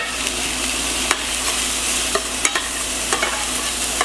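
Onions sizzling in hot oil in a pan, stirred with a steady crackling hiss and a few sharp scrapes and clinks of the utensil, close and loud with no voices.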